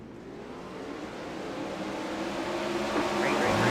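A pack of 410 sprint cars roars away at the green-flag start of a heat race at Williams Grove, the engine noise building steadily from a distant rumble to a loud, rising howl.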